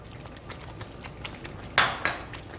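A spoon scrapes and clinks against a cooking pot while basil and parsley are stirred into marinara sauce, with soft scattered taps followed by two sharper metallic knocks near the end, close and fairly quiet.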